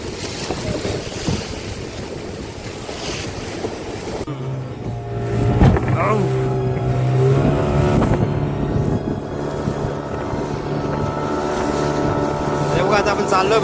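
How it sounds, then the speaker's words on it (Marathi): A fishing boat's engine at sea, first buried under gusting wind and crashing waves, then starting up into a steady, close droning hum that runs on under the surf and wind noise. "थोडं पुढे गेलं का आपण इंजिन चालू मारू."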